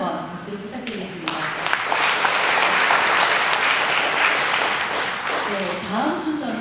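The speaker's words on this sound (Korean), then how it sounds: "박수를 부탁드리겠습니다." An audience at the 2016 Ansan lifelong learning forum applauds after a talk, the clapping swelling to a full, steady ovation, with a speaker's voice heard at the start and end.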